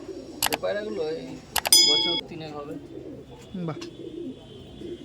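Old Madras pigeons coo softly in a home loft. People talk over them, and a few metallic clinks are heard.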